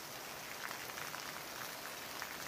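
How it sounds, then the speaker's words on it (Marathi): Heavy monsoon rain in a village, a steady, dense hiss of downpour filling the whole clip at an even level, with no voices. "असा पाऊस जर असला महिनाभर 8-15 दिवस जरी असला तरी चांगला पाऊस निघतो"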